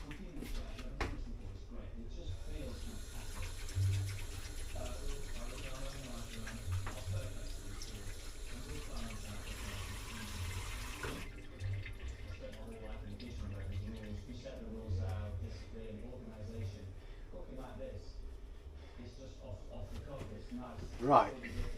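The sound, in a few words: washing hands under running tap water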